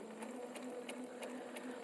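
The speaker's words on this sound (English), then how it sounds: "then we're going to start sewing" A sewing machine stitches fabric at medium speed with an even, rapid mechanical clatter, needle strokes ticking in a steady rhythm over a low motor hum, close and without speech.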